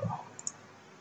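A computer mouse gives one or two faint, quick clicks over a quiet room hiss, with no speech.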